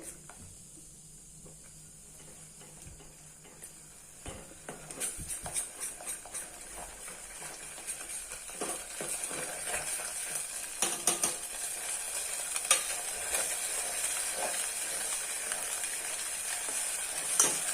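Rice sautéing in a pan for rice kheer gives a soft, growing sizzle with scraping and stirring sounds, close and fairly quiet, building steadily over the stretch.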